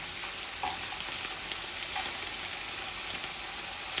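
Small pieces of rohu fish fry in a pan with a steady, dense sizzle and faint crackles, close and continuous, with no talking.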